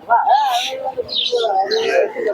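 Pigeons coo softly at the Santipur pigeon market beneath close, steady talking, with a busy outdoor bustle around them.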